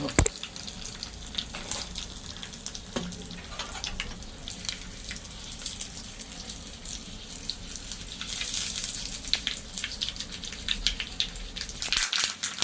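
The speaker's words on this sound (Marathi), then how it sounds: "गॅस बंद केल्याने मस्त सरसरीत फोडणी बघा छान झाली आहे" Green chilies and asafoetida sizzle in hot oil for a Marathi-style tempering, a steady crackling hiss that goes on throughout with occasional sharper pops and no talk.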